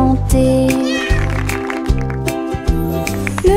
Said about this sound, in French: Le chat ronronnait de joie et de bonheur.